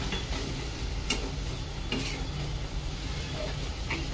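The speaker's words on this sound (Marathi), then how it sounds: "साहित्य व्यवस्थित असं एकत्र करून घेऊया." Chopped spring onion greens and chana and moong dal being stirred in a pan for zunka, soft scraping strokes over a steady low sizzle, a few sharper spatula knocks, no talking.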